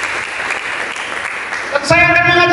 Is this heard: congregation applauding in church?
yes